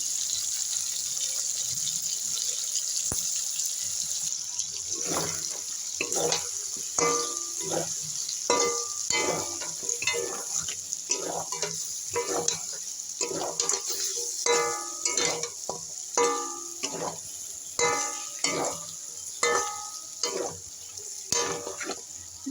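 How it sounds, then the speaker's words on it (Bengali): Chicken pieces frying in a pan over low heat, a constant close hiss overlaid by repeated bursts of stirring, scraping and spattering in an irregular rhythm, with no talking. "আমি হালকা হিটে আমি চিকেনগুলোকে ভালো করে ফ্রাই করে নেব"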